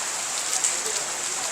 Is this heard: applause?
no